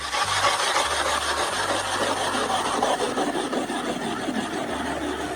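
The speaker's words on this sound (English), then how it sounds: "That's a big ice saw" Rhythmic rasping strokes of a large hand saw cutting through lake ice for dark house spearing, back-and-forth scraping repeated steadily for several seconds.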